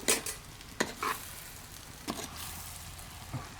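Pork for a village-style roast is tipped into a hot frying pan and stirred, giving a few sharp scraping clatters over a soft, low sizzle, with no talk.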